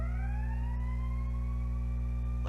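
Ambulance siren passing outside: a continuous siren tone gliding slowly upward, steady and moderately loud over a constant low electrical hum.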